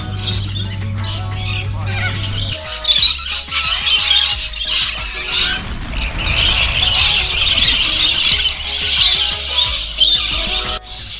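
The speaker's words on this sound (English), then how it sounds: "listening to all the birds doing the feeding over there" Flock of wild birds at an afternoon feeding squawks and squeals loudly and continuously, overlapping calls and shrill chirps close by, with a low hum in the first seconds.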